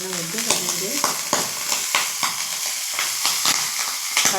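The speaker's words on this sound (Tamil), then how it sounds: "கடுகு போட்டு தாளிச்சுக்கிறேன்" Mustard seeds pop and crackle in hot oil in a kadai during tempering, a dense, close sizzle with sharp spitting bursts and occasional stirring clatter throughout.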